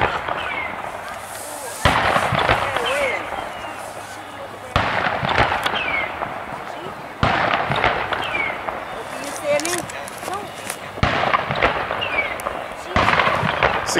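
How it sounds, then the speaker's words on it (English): Several sharp, heavy cannon booms go off one after another at irregular intervals at a night festival, each followed by a rumbling tail, with people talking between them. "It's the cannons."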